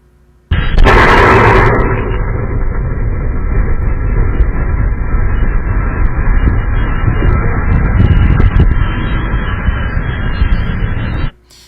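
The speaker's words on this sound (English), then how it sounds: "Footage reportedly shows the effect of a large explosion at the Valero oil refinery in Port Arthur." A large explosion at the Valero oil refinery in Port Arthur sounds as a sharp blast followed by a loud, sustained roar and rumble that holds for about ten seconds and then cuts off abruptly, with no talk.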